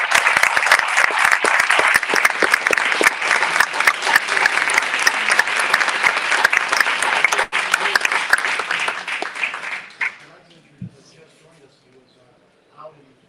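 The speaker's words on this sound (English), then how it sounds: "let's give them a round of applause and solidarity" A crowd at a Cuban solidarity rally in Miami applauds loudly and steadily for about ten seconds, with scattered whoops over the dense clapping, before the applause fades out and a few faint sounds remain.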